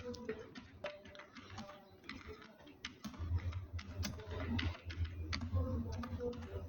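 Keyboard typing during a Tally Prime 4.0 purchase entry, a run of quick light key taps that grow busier and denser in the second half, close and moderately loud against a faint background hum.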